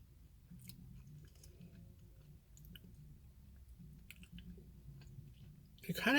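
Someone chews a Kit Kat Apple Pie candy bar close to the mic, soft low mouth sounds and faint moist clicks, ending in a louder burst near the end.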